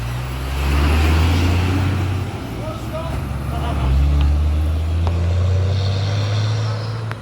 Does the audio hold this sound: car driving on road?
yes